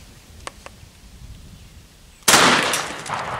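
A single sharp, loud 12-gauge shotgun slug shot at close range cracks out suddenly after a quiet stretch with a couple of faint clicks, then rings and decays across the rest of the moment.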